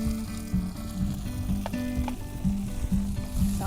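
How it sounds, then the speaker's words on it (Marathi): Tomatoes sizzle in a hot pan with onion, garlic and green chillies for an Agri-style dried bombil (wam khara) dish, a loud continuous close-up frying hiss under a low background hum. "टोमॅटो व्यवस्थित परतून घेऊ,"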